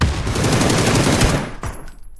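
Rapid automatic gunfire in the battle royale video game PUBG, a loud close burst of dense shots lasting under two seconds before stopping abruptly.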